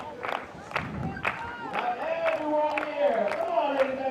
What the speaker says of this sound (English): he is leading the cheering section for her